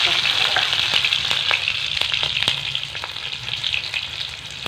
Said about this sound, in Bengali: তেলটা ভালো মতো গরম হয়েছে, এখানে দিয়ে দেবো একটু পাঁচ ফোড়ন, একটু কাঁচা লঙ্কা,